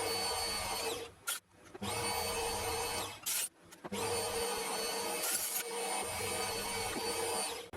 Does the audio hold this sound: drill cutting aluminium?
yes